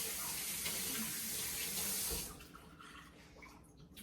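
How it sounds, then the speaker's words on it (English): Tap water runs steadily into a sink as hands are washed, a close, bright hiss that stops abruptly about halfway through, leaving quiet room tone. "Let me wash my hands real quick."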